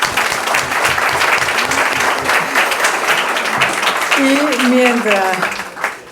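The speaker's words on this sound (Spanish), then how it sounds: "Vamos a despedir a este panel con un gran aplauso." An audience applauds a forum panel with sustained, dense clapping, while a voice speaks over it near the end.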